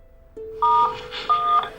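A telephone being dialed, a dial tone cutting in and then two distinct keypad tones, each a short clear beep, close and alone.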